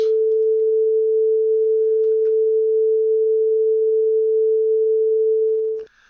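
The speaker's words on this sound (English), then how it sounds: "But as you hear, it's another sine tone." A pure sine tone generated in Pure Data software, one steady unwavering hum held for about six seconds before cutting off abruptly, loud and clean with nothing else heard.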